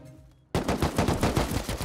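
A turret in a video game fires a rapid row of bullets, a sudden loud, close burst of evenly spaced automatic shots that keeps going after a quiet start.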